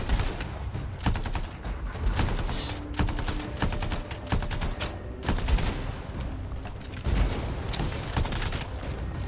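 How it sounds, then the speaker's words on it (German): Burst-fire weapon in the video game Anthem shooting in rapid, repeated short volleys of gunfire, loud and dense throughout with a steady mechanical background and no voices. "Meine macht nur so ein Burst-Schuss."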